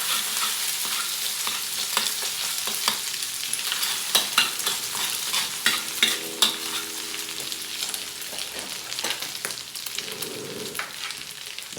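A raw egg sizzling in a hot pan while fried rice is being made, with a steady crackle, occasional stirring clinks and scrapes, and no talk.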